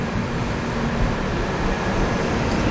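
A 22-coach train pulls into Berhampore Court railway station as light rain begins, giving a steady, loud rumble of wheels and carriages that holds at one level throughout with no pauses.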